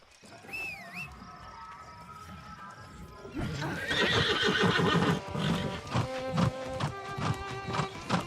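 A horse in the video game New World gives a high whinny early on, then steady clip-clop hoofbeats follow as it rides off, with game ambience and insect buzz around it.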